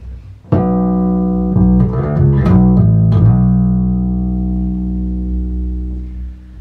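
Gibson Thunderbird electric bass played alone on the neck humbucker: a deep plucked note, a short run of quick notes, then a long thick, warm note ringing out and slowly fading.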